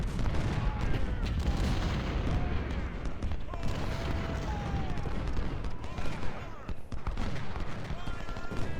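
A dense Civil War battle in Ultimate General: Civil War, with massed musket fire and distant artillery blending into a continuous rumbling crackle, while someone talks over it.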